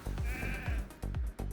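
Several short sheep bleats from a sheep transformation skill cast during an arena battle in a mobile fantasy game, loud, quick and repeated with brief gaps between them, with no voices over them.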